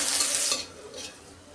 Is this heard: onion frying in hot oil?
yes